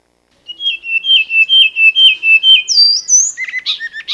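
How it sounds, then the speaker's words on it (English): Bird song recorded in China: a clear, close series of about ten evenly spaced whistled notes, then rising higher phrases and quick twittering trills at the end, heard alone. "one of my favorite bird songs"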